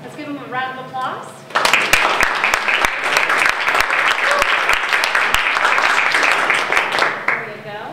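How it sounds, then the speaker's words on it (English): A school event audience breaks into loud, dense applause that starts abruptly after a brief voice and carries steadily for about six seconds before easing off as talking resumes. "Let's give him a round of applause."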